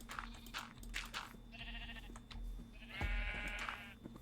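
Sheep in a video game bleat twice, short nasal wavering calls in the middle and near the end over a quiet background of low thuds and soft crunching.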